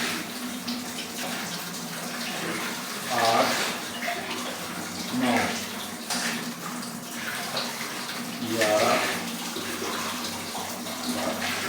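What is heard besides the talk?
pouring water into a large chicken biryani pot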